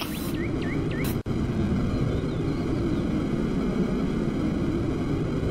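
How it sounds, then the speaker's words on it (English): A jet turbine engine on a mech in a video game gives off a loud, steady roaring hiss that runs almost unbroken, with a few brief tonal chirps near the start and one short dropout. "Stop playing with the jet turbine, man."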